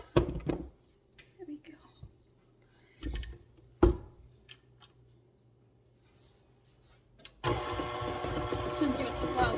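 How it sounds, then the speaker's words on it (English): An electric mixer starts up and runs steadily, a close whirring hum mixing banana nut muffin batter, after scattered thumps and clatter. "my mixer likes it to throw out the flour and dry ingredients"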